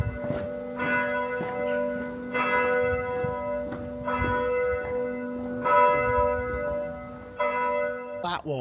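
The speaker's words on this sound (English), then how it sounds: "it's very apt that the bells are ringing now" Church bells ring out in a steady, overlapping peal across a pretty West Country village on a Sunday, bright sustained tones repeating for the whole stretch with faint background voices.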